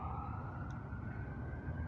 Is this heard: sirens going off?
yes